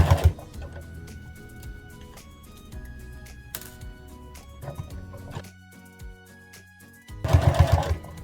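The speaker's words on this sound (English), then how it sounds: "And then I'm going to pivot on the corner here and sew up across the top, the edge of the band, and then turn and go down the other side." Sewing machine stitching the fabric band of bear overall pants, bursts of rapid mechanical chatter with pauses between runs, the loudest burst near the end.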